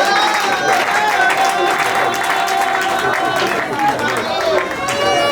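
Wedding guests in a hall applaud the winning couple, steady dense clapping and crowd noise throughout, loud and close, with music and voices mixed underneath.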